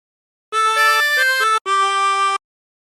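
A chromatic harmonica plays a short phrase as two bright, sustained held passages separated by a brief gap, close and clear with no other sound.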